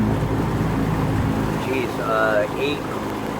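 A boat motor runs at low throttle, cruising slowly across the water at only a few kilometres an hour. A steady, low rumbling drone fills the whole stretch, with faint airy noise on top.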